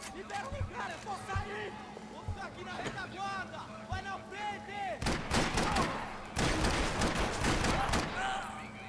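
Uzi gunfire in the video game Max Payne 3, with sporadic shots early on and then dense, loud bursts of rapid fire in the second half, mixed with people talking.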